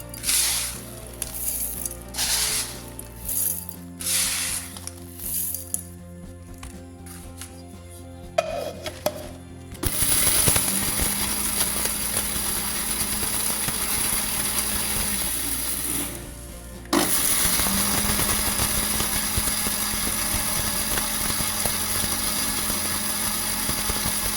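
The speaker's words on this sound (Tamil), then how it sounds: "கிரைண்டர் ஜாரில் இந்த மாதிரி போட்டு அரைச்சி எடுத்துக்கோங்க" An electric mixer grinder grinds dry ginger and coriander seeds in the jar with loud, close whining bursts that start and stop, then long continuous runs, no voices.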